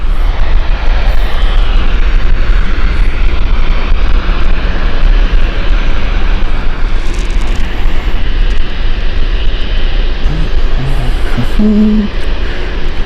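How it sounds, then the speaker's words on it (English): A passenger jet, an EasyJet departure at Gatwick Airport, roars loudly and steadily throughout with a deep broadband engine rumble, and a brief faint tonal hum appears near the end. "Palma flight EasyJet heading out, coming in as well"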